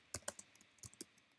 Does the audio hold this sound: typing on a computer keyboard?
yes